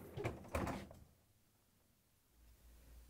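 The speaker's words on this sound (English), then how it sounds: "we need to open the freezer door" A Samsung freezer door is pulled open: two quick close thumps with a seal release and rattle in the first second, then near silence with a faint low hum.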